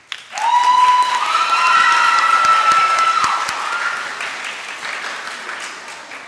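An audience at a school awards day ceremony breaks into loud, sustained applause, with a thin whistle-like tone carrying over the clapping before it slowly tapers off.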